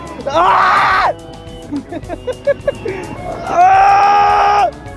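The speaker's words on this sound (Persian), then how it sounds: "ولی الکی جیغ بزن" Riders on the biggest Ferris wheel in Rasht let out two long, loud screams, with softer chatter and scattered noises in the gap between them.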